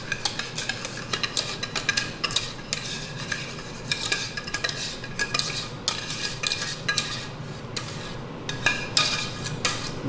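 Peaches are stirred into smooth butter for a peach cobbler, with a spoon scraping the pan in quick, repeated strokes over a light sizzle, close and steady for about ten seconds.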